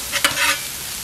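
Whiting and salmon fish fry on a Blackstone Adventure Ready griddle with a loud, close sizzle, and a brief stir or scrape of a spatula cuts through partway.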